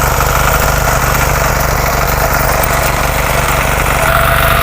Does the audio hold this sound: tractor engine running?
yes